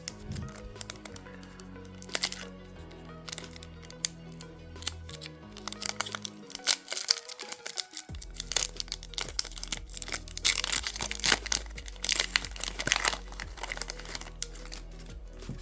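A Pokemon Scarlet Violet booster pack is torn open, with close crinkling and tearing of foil wrapper over a steady background hum and faint music, rising in density toward the end.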